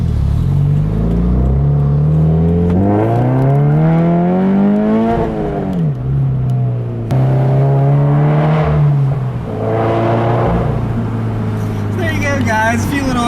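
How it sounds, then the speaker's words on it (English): A Subaru BRZ heard from inside as it accelerates hard through the gears, engine note rising then dropping at each shift, loud and close with road and wind noise underneath. "I'll leave you with a nice little acceleration"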